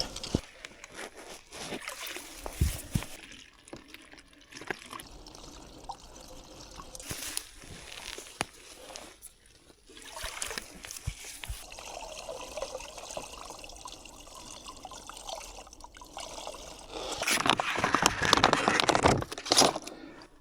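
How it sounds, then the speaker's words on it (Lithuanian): A river flowing through a forest trickles and gurgles close by, with scattered rustles and knocks from movement nearby and a fuller rush of water building toward the end. "Štai ir upė."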